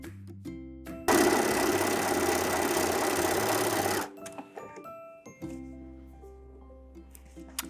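A sewing machine stitches elastic onto a sweater-turned-dress in one loud, continuous burst of about three seconds, preceded and followed by shorter machine starts, clicks and handling noises.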